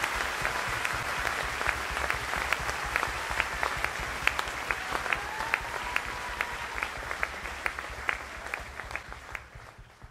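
A church congregation claps in steady, fairly distant applause with sharp individual hand claps standing out, continuing for about ten seconds before tapering slightly, with faint voices underneath.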